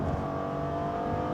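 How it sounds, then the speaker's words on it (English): A 2013 Mercedes-Benz SL with a V6 engine revs in a short burst, giving a smooth, steady engine drone with a rich harmonic tone and no voices. "It's got a really nice engine note."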